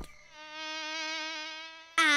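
A voice imitates a buzzing bee with a steady, sustained nasal drone lasting a couple of seconds, close and fairly loud, then a sudden louder burst at the end.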